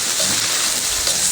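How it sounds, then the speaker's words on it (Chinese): Seafood aromatics hit a hot wok as stir-frying begins, giving a loud, steady sizzle and hiss with no pauses. "开始爆香"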